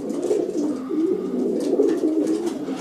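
Racing pigeons in a breeding loft of males coo continuously, a low, rolling murmur of overlapping calls close by.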